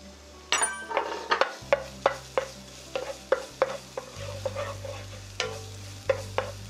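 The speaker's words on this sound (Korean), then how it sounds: "버터가 녹으면 다진 양파를 넣고 볶아주세요." Chopped onion stir-fried in melted butter for a spinach side dish, with a regular run of close spatula scrapes and taps against the pan over a continuous soft sizzle.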